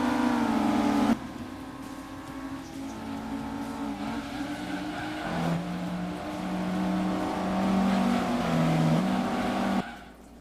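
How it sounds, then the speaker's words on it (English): A race car in the Gran Turismo 2 video game on Tahiti Road drones steadily at high revs, with shifting engine pitch and occasional tire squeal, loud and continuous with no talk. "See our beautiful car in action."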